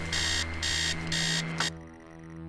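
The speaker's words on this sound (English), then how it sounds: "Upstairs, the sound of an alarm clock blaring." An alarm clock blares upstairs in the Stories Untold video game, loud electronic beeping in three rhythmic bursts over a steady low hum, then it cuts off leaving the droning background.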